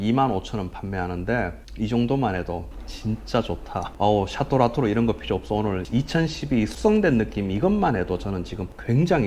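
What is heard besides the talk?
No distinct noise like a dog, phone or traffic.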